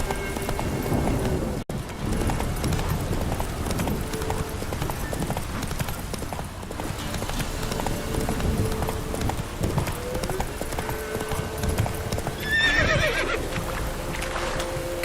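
Roach the horse trots on in The Witcher 3, hooves clip-clopping in a steady rhythm close by, with a whinny breaking through and a soft voice briefly under the hoofbeats.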